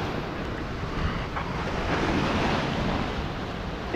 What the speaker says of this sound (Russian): Так, сейчас подожду волну, когда придет.